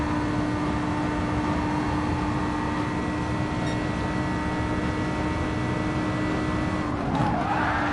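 NASCAR race car in Gran Turismo Sport, braking late into a corner and sliding, with a steady loud engine drone throughout and a brief tire-scrub burst near the end.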